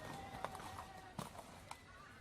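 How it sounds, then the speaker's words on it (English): A horse's hooves clip-clop through a bustling market, three or four distinct clops over a steady background murmur, fairly faint and unhurried. "Later, Mulan walks through the market with her new horse"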